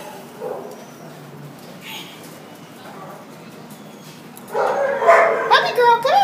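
A Border Collie Husky mix dog at the pound yelps and wails in a rising burst of loud, pitched cries, following a quieter stretch with a few faint yips and background noise.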